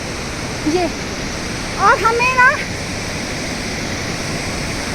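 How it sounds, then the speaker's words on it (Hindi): The fast-flowing Pushpavati river in the Valley of Flowers gives a steady, loud roar of rushing water that fills the whole clip, with brief speech over it. "आप नदी की आवाज़ से अंदाज़ा लगा सकते हो कि नदी में जो बहाव है वो कितना तेज है।"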